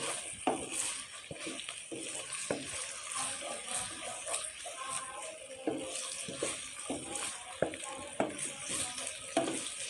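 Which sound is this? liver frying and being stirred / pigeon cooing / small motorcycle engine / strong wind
liver frying and being stirred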